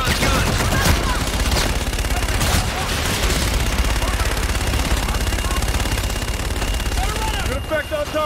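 Aircraft gun run in Call of Duty Infinite Warfare: a long, loud burst of rapid strafing fire rattling continuously for several seconds, with faint radio chatter mixed underneath.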